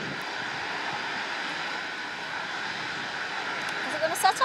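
Handley Page Victor K2 tanker jet engines running at Bruntingthorpe Aerodrome, a steady loud broadband roar filling the whole clip, with a few brief clicks and bumps near the end.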